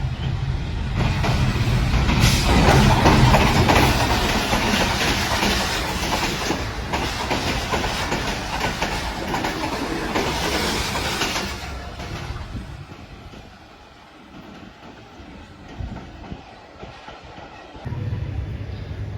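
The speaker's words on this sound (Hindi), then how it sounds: "ये तेज़ रफ्तार ट्रेन आ रही है, इसका नाम है रेल कार, और ये लाहौर से रावलपिंडी की जाती है।" The fast Rail Car train running from Lahore to Rawalpindi thunders past near Gakhar Mandi railway station, a loud rumbling roar with wheel clatter that gradually fades, leaving quieter outdoor ambience at the end.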